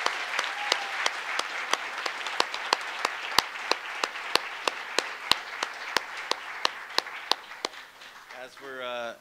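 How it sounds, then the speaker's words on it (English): Audience applause at a school board meeting honoring district employees of the year, a steady dense patter of clapping with sharp individual claps standing out, fading near the end as a voice begins speaking. "So please join me in a round of applause for the Elk Grove Unified School District's 2016-17 Employees of the Year."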